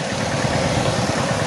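A fishing trawler's engine idles at a river jetty on the Ganges at Diamond Harbour, a steady low rumbling chug with even vibration, close and continuous, with no talk over it.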